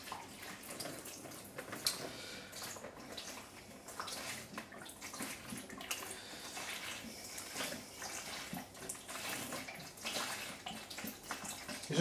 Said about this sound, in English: The apple juice goes in the bucket